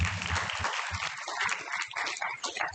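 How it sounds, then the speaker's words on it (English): Group applause at a workshop for young students, a busy wash of clapping hands with voices and chatter mixed in, moderately loud and continuous. "Give a round of applause"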